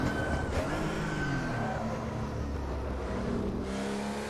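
A Porsche 935 Moby Dick turbo race car in Assetto Corsa revs hard, its engine note rising and falling through the gears with a loud, close, continuous roar and a brief whistle near the start.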